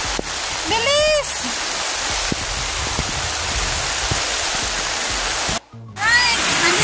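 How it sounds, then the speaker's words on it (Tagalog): Loud, steady downpour of heavy rain hissing without a break, with voices speaking over it at the start and end and a brief drop near the end. "Sobrang lakas ng ulan, no?"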